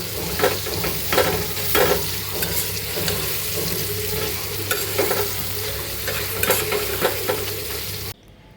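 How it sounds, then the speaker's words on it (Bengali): Shrimp, green chillies and turmeric sizzle steadily in a hot pan, with close, repeated scraping and stirring strokes over the constant frying hiss, ending abruptly. "এখন এগুলো সব একসাথে কষিয়ে নিব তারপরে পানি দিব"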